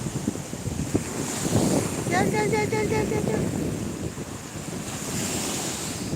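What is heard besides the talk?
ocean waves breaking on the shore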